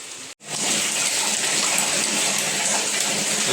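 Rainwater gushes and splashes in a steady, loud rush after a brief cut at the start, with no voices.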